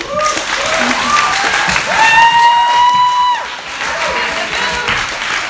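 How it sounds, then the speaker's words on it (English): An audience applauds at a student large-group gathering, steady clapping and some cheering filling the room while a few voices talk over it. "Can we give them a round of applause?"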